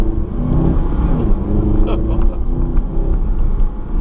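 A Mercedes SLS AMG with a naturally aspirated 6.3 litre V8 hums and rumbles heavily from inside the cabin while someone talks over it throughout.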